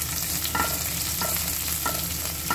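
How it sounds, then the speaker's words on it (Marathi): Two hot green chillies and roughly chopped garlic fry in a pan, giving a steady loud sizzle with a few stirring scrapes at regular intervals and no talking. "ह्या हिरव्या मिरच्या मी 2 घेतल्या, तिखटवाल्या आणि रफली चॉप लसूण। आता हे छान व्यवस्थित आपण पहिल्यांदा फ्राय करून घेऊया।"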